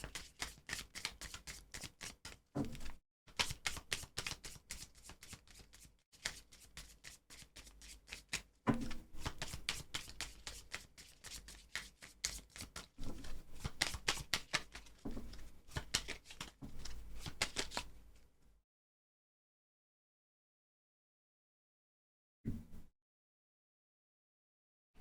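Tarot cards shuffled by hand, quiet riffling and slapping in bursts with brief pauses, then falling silent near the end apart from one short rustle.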